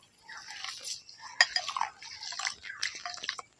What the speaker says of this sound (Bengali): এখন চালটাকে আমি একবারে গায়ে দুবার তিনবার জল দিয়ে ভালো করে ধুয়ে নাব